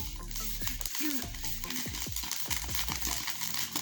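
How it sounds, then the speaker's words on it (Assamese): Paddy being stirred with a stick in hot sand in a wok, giving close, rhythmic scraping and crackling sizzle strokes, with grains popping, a few per second, no talk. "এয়া কুচিডালেৰে লৰাই দিছে"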